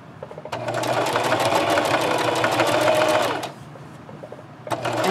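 A sewing machine stitches a ponytail scrub cap made from cotton fat quarters or scraps. It runs in a close, buzzing burst, halts abruptly into quiet, then starts up again briefly near the end.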